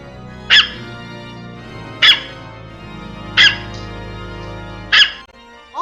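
A small dog gives four short, sharp barks spaced evenly about every second and a half, loud and close, over a low steady background hum, with a faint whimper at the end.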